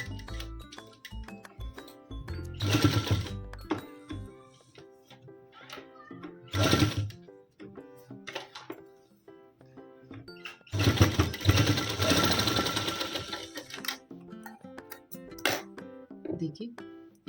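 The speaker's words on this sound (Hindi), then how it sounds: "इसको भी चारों साइड से हम सिलाई मार देंगे।" A sewing machine stitching patchwork onto a trouser hem runs in several short, loud whirring bursts separated by pauses, with someone talking in between and over the stitching.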